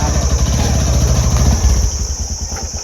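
A motorcycle engine idles loudly and steadily nearby, its low rhythmic putter chugging without a break.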